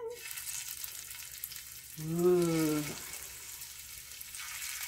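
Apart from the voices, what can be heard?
meatballs sizzling in hot olive oil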